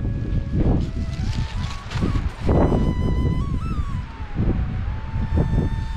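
Gusty wind in Sagada, Philippines buffets the microphone in loud, rumbling bursts, with a faint high whine wavering in the background.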